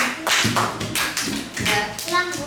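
A classroom of children clap their hands in several separate bursts of sharp taps, with a voice and some talking mixed in between the claps.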